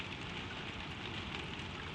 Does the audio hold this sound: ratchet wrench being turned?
no